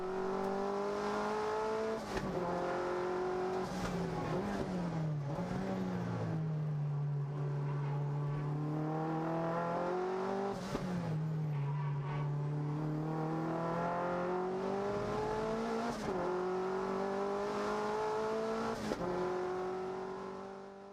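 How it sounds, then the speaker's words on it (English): A race car at Winton Raceway takes the final two corners and blasts down the main straight, its engine loud and continuous, pitch climbing through gear changes with brief drops between shifts, heard alone without talk. "You can now run through all the gears and blast down the main straight towards the finish line"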